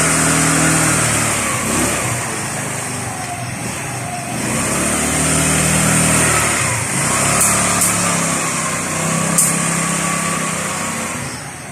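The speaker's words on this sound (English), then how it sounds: "He's gonna test ride it." Rusi 125cc scooter engine running steadily and close during a test ride after repair, its buzzing drone rising and falling slightly with throttle throughout.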